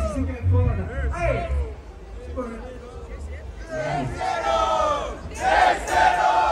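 Audience at a rap battle semifinal shouting and cheering for the second round, a rough crowd roar rising in waves under an excited voice over loud speakers.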